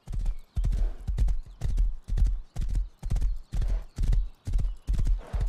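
Horse hooves clip-clop in the video game Rust, a loud, even walking rhythm of hollow thuds repeating roughly twice a second, close and with no voices.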